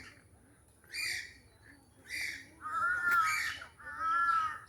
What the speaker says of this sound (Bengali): একদম কাছ থেকে পাখিটা ওয়ালে বসে আছে।